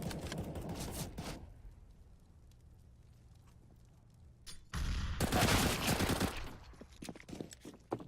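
Two loud bursts of Glock pistol fire from Counter-Strike gameplay, the first at the start and a longer, denser volley a few seconds later, with a quieter stretch between them.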